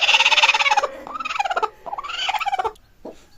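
Loud, close gobbling calls from birds on a High Flyer desi-cross poultry farm where chicks are hatching, several rapid rattling bursts following one another with short gaps, no talk.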